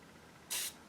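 A short, bright hiss of fine mist from a re-pressurized aerosol can, one burst of about a fifth of a second that stands out clearly against quiet background noise.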